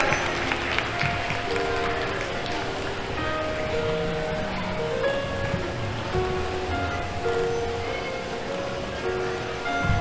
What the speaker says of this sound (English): Give him a round of applause, Aditya Buchan.